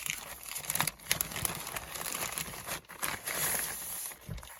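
Paper crinkles and tears in close, busy rustling bursts as an envelope is opened by hand, with brief soft handling noises between the louder crackles and no talking.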